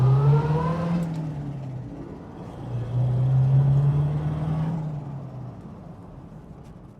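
A 1948 Buick Super Woody Wagon drives past on the road, its engine hum swelling, easing off, then rising again as it nears before fading away.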